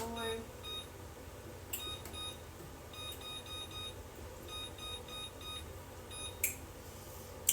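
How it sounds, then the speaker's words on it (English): An oven timer is set with a series of short electronic beeps in small clusters, fairly faint against a quiet kitchen background. "Let's put the timer on."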